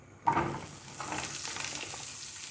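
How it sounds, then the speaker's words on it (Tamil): Onions sauté in coconut oil in a small tawa after mustard seeds, cumin and urad dal, a sudden burst of sizzle that settles into a steady, close frying hiss. "அது ஆனியன் ஆட் பண்ணி நல்லா வதக்கிக்கிறேன்"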